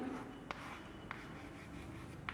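Notes written on a board during a skeletal system lesson: faint scratchy strokes with three sharp taps spaced about half a second to a second apart, quiet and alone under a low room hum.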